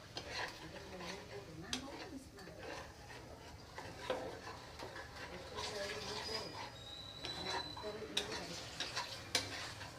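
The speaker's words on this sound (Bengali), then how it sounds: "এখানে ডিমটা ভেজে নিচ্ছি।" An egg fries in a pan during a noodle cooking session, giving a steady, moderate sizzle with scattered clinks and scrapes of utensils against cookware throughout.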